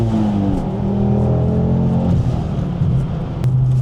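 A Ford Focus RS Mk2 engine pulls hard under acceleration, its loud, continuous roar climbing steadily in pitch through one sustained run, heard close with no talking.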